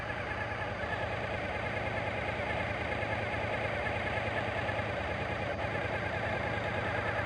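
A Suzuki motorcycle engine idles at a steady, even hum with no change in pace, heard close and alone throughout.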